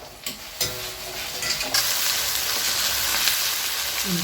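Small tomatoes drop into a hot pan for ginger garlic pepper chicken, giving a couple of thuds and then a loud, building sizzle and fry as they are stirred.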